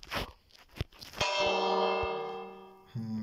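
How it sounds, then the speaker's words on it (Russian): Village bell in the Minecraft video game rings out, a single loud metallic clang with a long resonant ringing decay, then a second strike near the end, preceded by soft crunching footsteps. "О, колокол."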